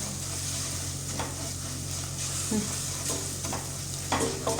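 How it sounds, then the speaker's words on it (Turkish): Tomato paste and mint fry in a pan with a steady soft sizzle. A spoon scrapes and stirs now and then, quiet and close. "Salçayla naneyi kavurayım"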